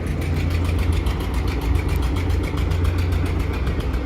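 An Eicher 241 tractor engine idles at a tractor market, a loud, steady low throb with a fast even pulse running close by throughout.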